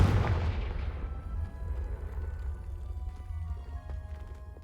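A Confringo fire spell blasts off in Hogwarts Legacy, a single heavy boom that hits loud and then rolls into a long, low rumbling decay with no voices over it.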